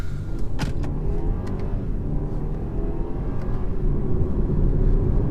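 A BMW 320 launches hard from inside the cabin, its engine a loud, steady low drone that builds slightly over several seconds, with a few faint clicks and rattles on top.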